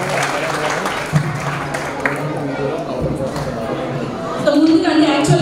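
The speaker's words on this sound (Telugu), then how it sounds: "సో మేడంకి ఒక్కసారి గట్టిగా క్లాప్స్ ఇచ్చేద్దాం" An audience at a Telugu women's TV show claps for Nagamani madam's special entry: a sustained round of applause under ongoing talk, swelling louder near the end.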